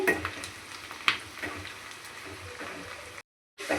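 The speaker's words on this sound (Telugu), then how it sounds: "ఈ ఉల్లిగడ్డ ముక్కలను అయితే మంచి గోల్డెన్ కలర్ వచ్చిందాక ఫ్రై చేసుకోవాలి" Onion slices frying in hot oil until golden, a soft steady sizzle with occasional stirring clinks and scrapes, fairly quiet, briefly cutting to silence near the end.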